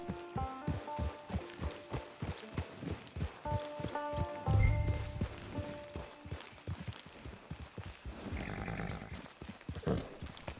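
Horse hooves clip-clop in a steady riding rhythm in Red Dead Redemption 2, close and distinct, with a brief low thump midway and music-like tones underneath.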